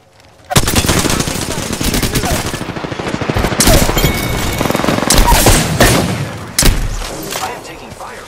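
Loud, rapid automatic gunfire in Apex Legends bursts in suddenly and rattles on nearly nonstop, with a few heavier thuds near the end and a voice briefly heard under the shots.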